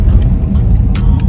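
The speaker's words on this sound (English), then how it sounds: "The car is driving." A car rolls along a street, heard from inside as a steady low road and engine rumble with faint, brief clicks and knocks over it.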